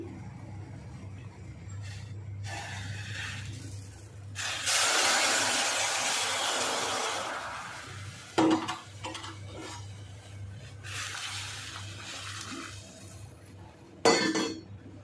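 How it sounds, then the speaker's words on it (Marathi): Hot water poured into roasted barnyard millet in a kadai, a steady hissing, sizzling rush in two bursts with brief clinks of a utensil against the pan, close up. "गरम झालेलं पाणी आहे ना तर या कढईमध्ये ओतून घेते"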